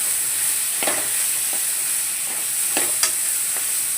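Vegetables sauté in a pan with a steady high sizzle, broken by a few soft scraping stirs of a spoon against the pan, close and alone without voices.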